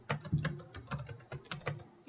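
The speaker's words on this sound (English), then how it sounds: "And I want to type in" Typing on a computer keyboard while setting up Microsoft Exchange Server 2013 Enterprise: close, quick irregular key clicks in short bursts with brief pauses, alone with no talk.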